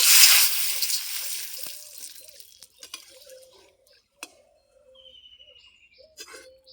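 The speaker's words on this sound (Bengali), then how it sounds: "এবার একটা একটা করে পাপড় ভেজে নেব" Sabudana papad frying one at a time in hot white oil in a wok: a loud sizzling hiss at the start that fades within a couple of seconds, then scattered light clinks and taps.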